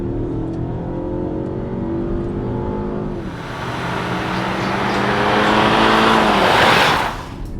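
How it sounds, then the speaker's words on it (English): A front-wheel-drive Changan CS75 Plus SUV in sport mode drops a gear and accelerates hard, its engine note climbing through a downshift and swelling into a loud, rising roar before easing off. "when you switch into sport mode, it drops a gear so that you can disappear"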